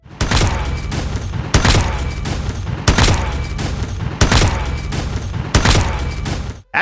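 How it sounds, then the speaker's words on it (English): A Call of Duty headshot sound effect from the video game repeats five times in a regular rhythm, each hit a loud, sharp, punchy impact with a ringing metallic tail, heard alone with no talk. "Right down to the excellent headshot sound effect."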